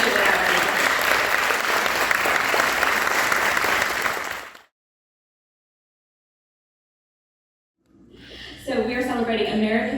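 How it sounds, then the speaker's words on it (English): A film festival audience applauds loudly for about four seconds before an abrupt cut to silence, then a voice begins talking at the end. "Give them a round of applause because they do it already."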